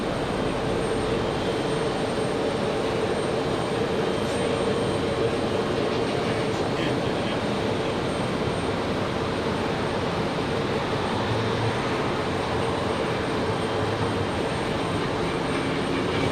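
A Frontier Airlines jet airliner takes off from runway 23 right at Raleigh-Durham International Airport, its engine roar steady and broad throughout, with no talk.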